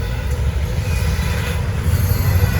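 A Norfolk Southern freight train rolls past at a crawl, its steady low rumble and rail noise loud and close throughout, with faint wheel squeal riding over the heavy drone.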